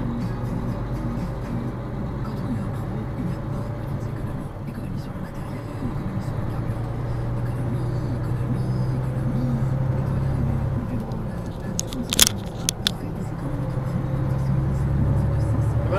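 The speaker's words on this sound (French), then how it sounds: "Et maintenant il accélère ce con!" A steady car engine and road rumble is heard from inside a vehicle in Tournefeuille traffic as a driver accelerates, building slightly toward the end while a voice talks over it.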